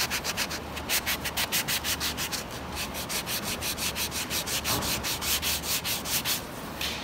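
Dried Bondo body filler on a car is sanded by hand in fast, even back-and-forth strokes, loud and close, forming a continuous rhythmic rasp with no talking.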